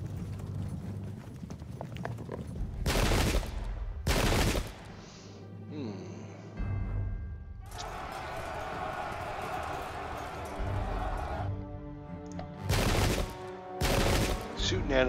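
Musket volleys in a pike and shot wargame, recreating the battle of Rocroi: several sharp, loud bursts of massed gunfire crack out at intervals between stretches of clattering battle noise, with no talk.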